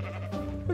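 Sheep bleating in the Minecraft video game, one short wavering bleat with a brief rise near the end, clear and fairly close, with no speech over it.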